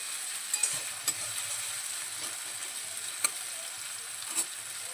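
Chopped tomatoes fry in a pan for a paneer-and-milk curry made without onion or garlic, a steady close hiss of sizzling with a few sharp stirring clicks, no voices.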